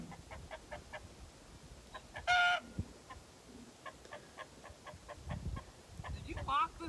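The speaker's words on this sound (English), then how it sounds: "The rooster." A rooster clucks in short, faint, repeated bursts with one louder squawk partway through, heard at a distance under intermittent talk and laughter.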